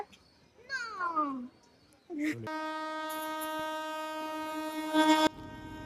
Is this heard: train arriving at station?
yes